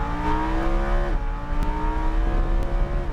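A Lamborghini Huracan LP 610-4 engine revs and climbs in pitch on a race track, a loud sustained mechanical drone with brief dips as power is fed in.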